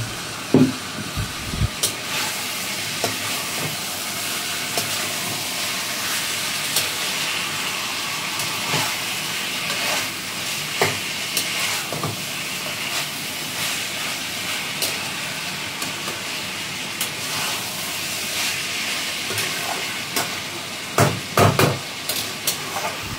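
Chicken cooking in oil in a pan, a steady sizzling hiss with occasional clinks and stirring scrapes, close and moderately loud throughout.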